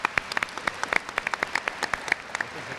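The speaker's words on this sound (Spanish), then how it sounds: "Un aplauso para él, ¿no?" Sparse applause from a small audience on a word-origin quiz segment for a contestant, separate distinct claps in a loose irregular rhythm, fairly close.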